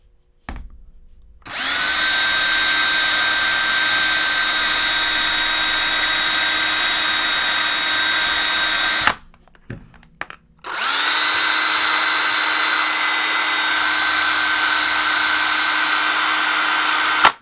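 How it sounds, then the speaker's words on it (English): A power drill whines steadily at high pitch against a sapphire phone screen protector, stops briefly for about a second, then starts again and keeps running loud and close. "let's go ahead and try out a drill. This has definitely got to scratch it."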